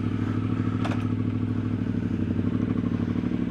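A motorcycle rides along a road in Guatemala, its engine droning steadily up close under rushing wind noise, with a brief rattle near the start and no talking.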